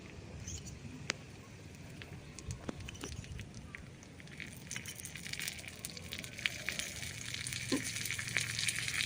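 Prawns frying for chingri jhal give a steady crackling sizzle in a pan, with scattered pops and faint background voices.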